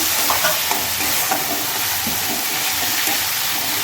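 Stirring fish in poppy-seed and nut paste in a frying pan with mustard, green chillies, whole garam masala and bay leaf; a steady close sizzle with scraping spoon strokes repeating throughout, no talking.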